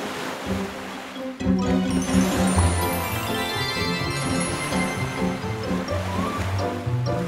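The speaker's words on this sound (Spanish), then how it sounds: "¡El mar se está alebrestando!" Rough, churning sea waves in a Spanish-language children's cartoon, a loud continuous wash of surf blended with a busy musical score throughout.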